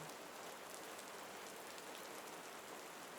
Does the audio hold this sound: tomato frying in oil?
no